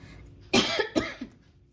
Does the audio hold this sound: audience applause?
no